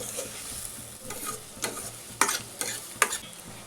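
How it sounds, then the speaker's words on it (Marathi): Chopped onion frying in a pan for pav bhaji, cooked until lightly pink, with a steady soft sizzle and a few sharp scraping strokes of a spatula stirring it, close and fairly quiet. "कांदा आपल्याला थोडासा पिंक होईपर्यंत भाजून घ्यायचा आहे."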